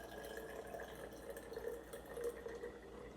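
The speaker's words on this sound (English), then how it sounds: "now I'm going to pour it into my glass jar very carefully." Blue-tinted water is poured carefully into a glass jar, giving a soft, steady trickle and splash that runs quietly for the whole few seconds with no talking.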